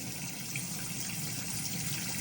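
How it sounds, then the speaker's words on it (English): Water runs steadily from the hot side of the tap in a Burstner Ixeo 586 camper van, a continuous close hiss of flow with no sputtering, alone without voices. "there's water coming through nice and clearly on the hot side of the tap"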